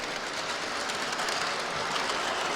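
Pennsylvania model train rolling southbound through a yard on a home layout, giving a steady, even rumble and faint wheel clatter that holds at one level throughout, with no voices.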